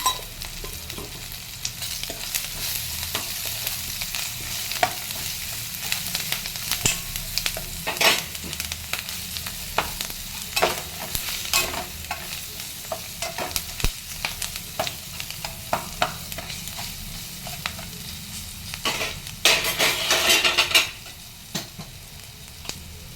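A spatula stirs food frying in a pan after salt and turmeric go in, with a steady close sizzle under repeated scraping strokes that swell into a louder burst of scraping before settling quieter.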